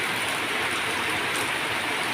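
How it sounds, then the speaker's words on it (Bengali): Steady rain pours down on a village, a dense, even wash of drops that is loud and close throughout with no voices. "আপনার সামনে দৃশ্যমান হচ্ছে ইহাকেই বৃষ্টি বলে"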